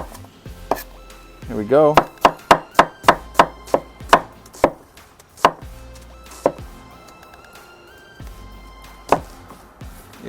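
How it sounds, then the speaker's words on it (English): An onion chopped with a knife on a board, a quick run of sharp, close thuds that slows to scattered single cuts, with a brief remark spoken over it. "So let's go ahead and cut some onion."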